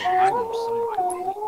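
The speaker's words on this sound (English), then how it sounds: "Was that you howling?" A drawn-out wolf howl in a video game rises and holds over a steady tone, with other howls and faint voices mixed in, sounding synthetic like game audio.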